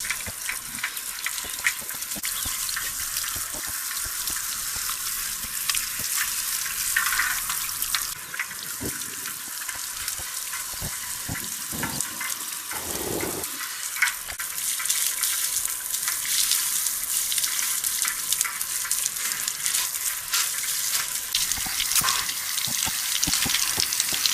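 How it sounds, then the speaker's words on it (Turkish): A shower runs continuously while a dog is washed after a swim in the sea in Antalya, a steady close splashing rush of water with brief changes in flow and no speech. "Alexandra Ladnaya, denizin ardından can yoldaşıyla duş aldı"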